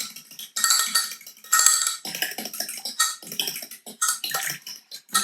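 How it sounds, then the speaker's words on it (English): A fork clinks and scrapes rhythmically against a bowl while whisking a couscous dressing of olive oil, with quick bursts of tapping and short pauses between strokes. "let's give it a little whisk with my fork"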